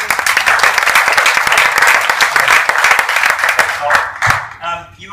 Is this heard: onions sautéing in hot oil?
no